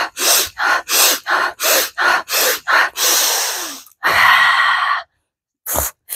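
Forceful pumping inhales for a breathing exercise come close and loud in a rapid rhythmic series of sharp sniffs, then a long drawn breath, a pause, and one final quick intake.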